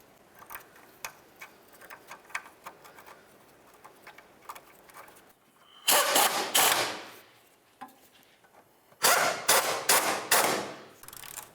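Sway bar bushing bracket bolts on a 1999–2003 Toyota Solara being started and snugged up: faint light ticking at first, then two louder bursts of rapid ratchet clicking up close, with no talking.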